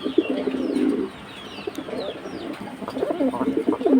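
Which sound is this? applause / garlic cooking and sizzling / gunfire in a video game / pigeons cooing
pigeons cooing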